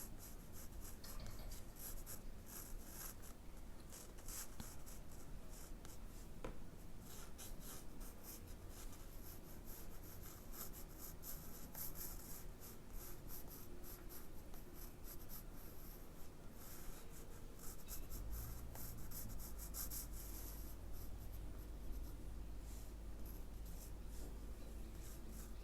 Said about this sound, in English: And I just do it very lightly with my pencil.